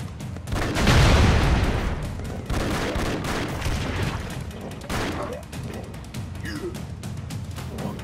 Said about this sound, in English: See how that explosion worked out.